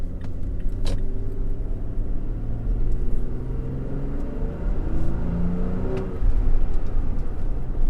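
A 3rd gen Toyota Tacoma with a six-speed manual and tuned engine accelerating on the road, a steady drone with rising engine tones and a brief rattle near the start, heard from inside the cab without talk.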